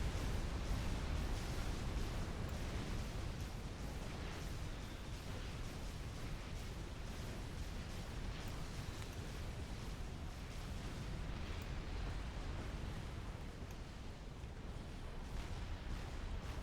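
Fat Boy artillery fire and explosions in Supreme Commander on the Funeral Plains map, heard as a continuous dense rumble of many overlapping booms and blasts at steady loudness throughout, with no individual shots standing out and no talking.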